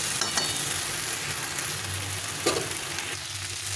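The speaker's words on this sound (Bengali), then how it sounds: "এভাবে করে ভালো করে কষিয়ে নিতে হবে অনেকক্ষণ ধরে।" Ground spice paste and mixed vegetables sautéing in a pan for a Bengali fish curry with bata fish, giving a steady close sizzle with occasional stirring scrapes, heard alone.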